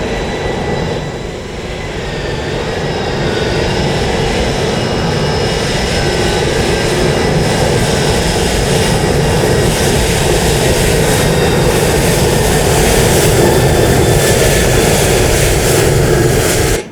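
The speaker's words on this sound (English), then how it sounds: "We're going to need to get these engines up and running so we can get rid of that ice" ATR 72-600 turboprop engines spinning up in extreme icing at Baltimore-Washington International Airport, a loud steady roar with a rising whine and droning tones that builds over the first few seconds and then holds.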